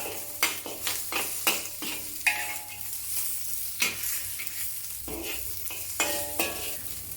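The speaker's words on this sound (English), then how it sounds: "Green chili sections, and continue stir frying for half a minute." Scallion and onion stir-fry in a hot pan for chili chicken, a soft sizzle broken by a run of sharp spatula scrapes and taps against the metal.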